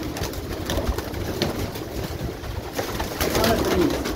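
Soft, low cooing of pigeons repeats through the clip over a steady outdoor background hiss, with a few slightly louder coos near the end.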